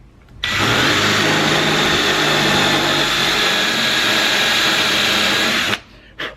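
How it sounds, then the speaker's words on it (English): A loud, close power drill with a dull bit runs continuously for about five seconds, grinding steadily as it bores holes in a wood block, then cuts off abruptly. "Wow, that drill bit's dull"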